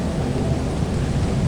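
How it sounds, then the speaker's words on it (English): Thunder in a video game: a steady, dense low rumble mixed with rain-like hiss, continuous and fairly loud throughout, with no talk. "Crap, there's thunder."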